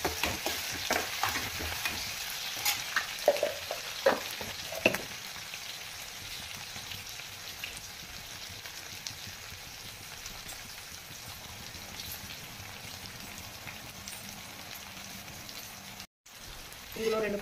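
Salted onions fry in hot oil toward golden brown, a steady close hiss with clustered stirring clicks early on and a brief dropout near the end.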